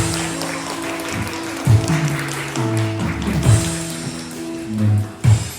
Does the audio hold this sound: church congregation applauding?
yes